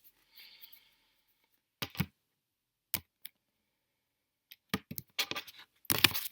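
Tarot cards are shuffled in short bursts of riffling and tapping, close up, separated by silent pauses.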